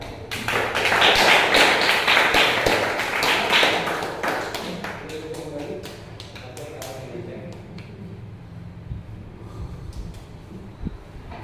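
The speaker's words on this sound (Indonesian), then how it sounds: "kita kasih tepuk tangan" A classroom of students clapping hands during a lesson, a burst of crisp claps that is loudest at first and then thins out into scattered taps and room noise, with some voices in the background.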